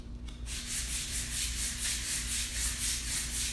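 Light hand sanding of painted furniture, a steady back-and-forth rasp of abrasive on a painted surface repeating in quick even strokes, close and fairly quiet, with no voices.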